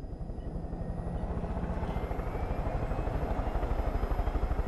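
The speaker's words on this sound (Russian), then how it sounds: "Давайте попробуем понаблюдать за Финни с высоты вертолетного полета." A helicopter flying in the video game Far Cry 5, a steady, loud rotor chop with a rapid pulsing beat over a low engine drone, continuous throughout and without speech.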